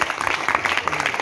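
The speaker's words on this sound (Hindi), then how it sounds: "तो पापा के लिए ताली बजा देंगे।" Audience in a hall at an evening event at Kilkari Bal Bhawan, Patna, giving a brief burst of dense, steady clapping that is fairly close and continuous for just over a second.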